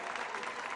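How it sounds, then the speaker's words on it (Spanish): A hall crowd breaks into dense, sustained applause as Pope Francis enters, a brief burst of many hands clapping at once with a faint murmur of voices underneath. "El Papa Francisco entró en la sala entre grandes aplausos"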